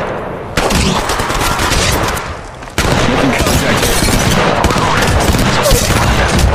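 Gunfire in Apex Legends, with loud, rapid automatic bursts, a brief lull, then a sharp restart into a continuous, heavy stream of shots.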